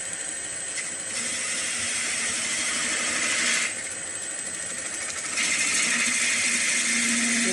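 A wood lathe spins a ball bat blank as a half-inch spindle gouge cuts into it, giving a continuous whirring hum with a hissing scrape that swells and eases as the tool engages.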